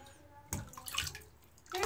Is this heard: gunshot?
no